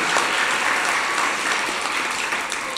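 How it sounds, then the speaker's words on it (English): An audience at a teen press conference applauds an author, a dense, continuous wash of clapping that fills the room and holds steady for a few seconds. "Let's give a round of applause for Catherine."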